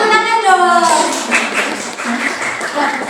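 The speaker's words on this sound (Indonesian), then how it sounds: "Tepuk tangan dong." A class of students clapping their hands in a lesson, a brisk burst of clapping that follows a teacher's voice and continues steadily to the end.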